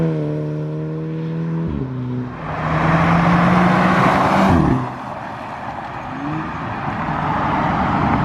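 High-mileage VW Golf GTI Mk5 with a new exhaust, the engine droning while driving, then revving hard into a loud rising roar that cuts off sharply and settles back to a lower hum.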